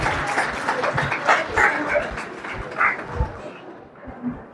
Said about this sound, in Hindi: जोरदार तालियों के साथ एक बार फिर से सम्मान करें।